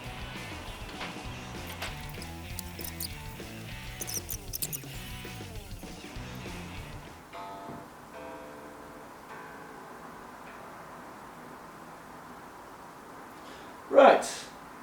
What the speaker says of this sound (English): let's tune this beast